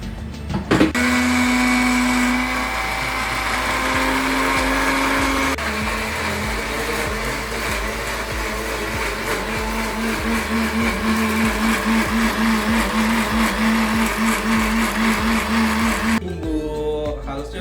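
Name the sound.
blender grinding chili spice paste with a little water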